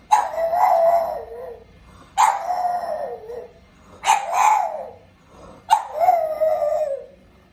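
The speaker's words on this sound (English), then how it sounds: "oh, the happy dog." A dog barks and howls in four drawn-out, yowling bursts spaced about two seconds apart, fairly close and clear with no talking over it.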